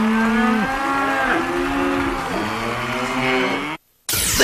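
Several cattle moo loudly and steadily in overlapping, drawn-out calls, one after another, close to the microphone, before a brief dropout into silence near the end.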